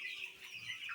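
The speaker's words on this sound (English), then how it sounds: "These are rainbow roosters and broilers." Two-week-old broiler and rainbow rooster chicks on a poultry farm in Paidha keep up a steady, overlapping stream of high cheeping and soft clucking, moderately close and without talk.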